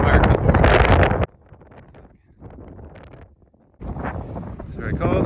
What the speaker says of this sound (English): This wind is 17 knots gusting to 33 knots.